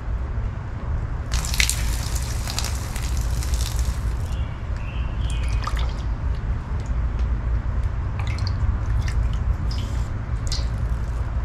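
Creek water runs and drips off a container just dipped and filled outdoors, a steady trickle and splash over a broad low rumble of flowing stream, with brighter spattering bursts early on and scattered drips later.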